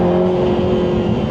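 2025 Lotus Emira Turbo SE accelerating hard in sport mode, heard from inside the cabin: a loud, steady engine drone with strong tonal hum and road roar, sustained without a break and with no talking.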